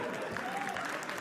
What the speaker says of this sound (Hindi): एक बार तो तालियां रवि के लिए।